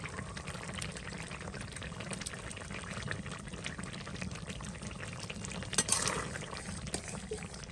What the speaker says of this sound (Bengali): এই যে সবজিটা কিন্তু রান্না করা হয়ে গেছে মাছের মাছগুলো দিয়ে দিলাম